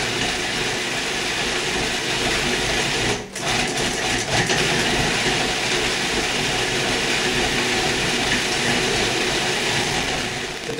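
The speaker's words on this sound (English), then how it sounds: "I'm going to let this spin around, pulse it every so often for about 30 seconds." Food processor blending homemade pasta dough, a steady loud motor whir running throughout with a brief dip near the start as it is pulsed, no talking.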